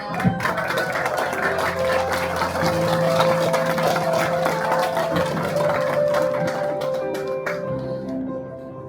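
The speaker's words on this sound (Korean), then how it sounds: "따뜻한 박수" Warm applause from an audience at the opening ceremony of a mayoral candidate's election office in Sejong, a dense crackling wash of clapping that runs steadily for several seconds before thinning out near the end.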